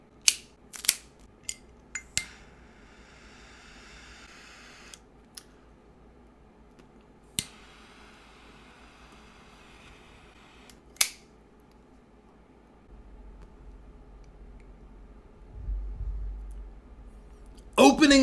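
Crisp, sharp clicks from a cigar cutter snipping a CAO OSA cigar, several isolated snaps spaced apart, followed near the end by a low, breathy rush as the cigar is lit, with no talking.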